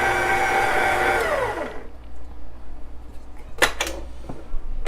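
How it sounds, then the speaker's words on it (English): An electric stand mixer whirs loudly with a steady motor drone, then winds down and stops after about two seconds, followed by a few clinks and knocks of bowl and utensils. "So I'm going to stop the mixer and add in the cheese."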